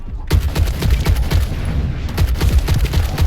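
Rapid scout rifle fire in the video game The First Descendant, a loud close run of repeated sharp shots in quick rhythm, with a faint voice in the background.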